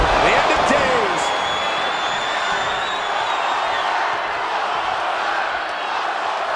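Arena crowd in Def Jam 2K24 at 125th Street Station cheering steadily throughout, a dense continuous roar with a few sharp impacts early on.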